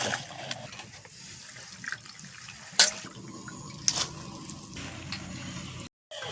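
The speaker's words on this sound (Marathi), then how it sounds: "बघा आता खळखळ धुवून घेते." Water sloshes and splashes close by as leafy greens are rinsed by hand, broken by a couple of sharp knocks and clatters.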